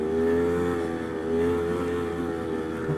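Close, steady engine drone of a Polaris Scrambler 250 three-wheeler being ridden, holding a buzzing tone with slight swells in revs throughout and no talking.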